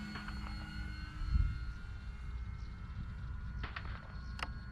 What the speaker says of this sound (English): kind of a whine to the motor, but I've never had a problem